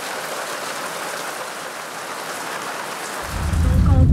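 Steady rain pours down at St Lucia, iSimangaliso, South Africa, a dense continuous hiss, with a heavier low rumble swelling in near the end.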